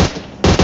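Rapid gunshots in PUBG on the Sanhok map, a quick loud string of close shots with a slight dip between bursts, heard alone in a very brief moment.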